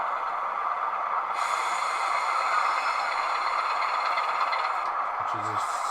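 A model Class 25 locomotive runs along its track with a continuous, even mechanical whir and rail hum, close by, with faint clatter near the end.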